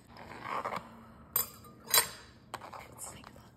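A knife cuts open an English muffin breakfast sandwich with egg and ham on a plate, giving a few sharp clinks and scrapes of metal on the dish with quiet talk around them.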